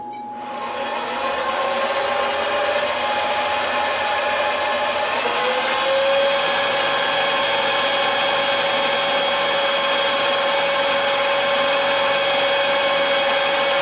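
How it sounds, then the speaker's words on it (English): A milling machine spindle spins up and runs steadily with a fly cutter mounted, a loud continuous whine with a tonal hum that rises as it reaches speed and then holds even throughout, with no talk. "All right, let's turn the spindle on."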